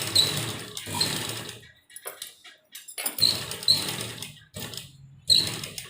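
A sewing machine stitches a fine inner seam on a kurti sleeve, running in short close bursts separated by brief pauses, with a rapid mechanical whir and clatter.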